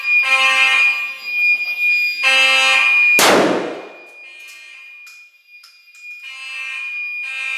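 Fire alarm in a school hallway sounds loud and close as a blaring electronic horn in repeated pulses, interrupted by a sharp burst of noise, with fainter tones after it and no talking.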